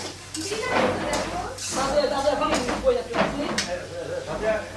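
Potatoes go into a pot of chicken biryani in a home kitchen, a soft clatter of pieces landing and stirring against the metal, with a voice talking close over the cooking noise.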